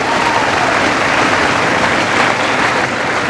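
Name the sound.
students applauding themselves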